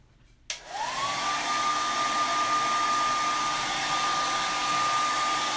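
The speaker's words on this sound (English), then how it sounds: "with our hair dryer." A hair dryer switches on abruptly and runs at a steady, loud whine, blowing on a wet Mod Podge napkin-covered egg, a continuous airy roar with a constant tonal hum.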